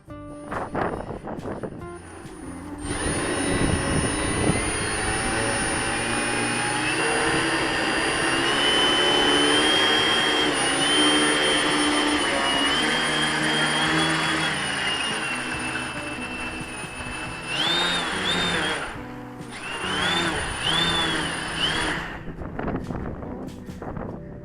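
A Dancing Wings Cute Girl model aircraft's electric propeller motor spins up to a loud, steady whining drone that holds for many seconds, wavers in pitch a couple of times near the end, then winds down. The sound is close and there is no talking.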